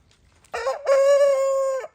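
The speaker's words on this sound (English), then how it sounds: "Oh man, his crow doesn't sound very good." A single rooster on a small Canadian farm in winter lets out one close crow, hoarse and strained like a voice, with a rough sputtering start before a sustained raspy note that cuts off abruptly.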